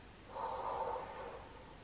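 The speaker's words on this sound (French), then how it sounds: "Donc on inspire." One slow, deep breath drawn in during a belly-breathing exercise, soft and close, swelling and fading over about a second and a half with nothing else heard.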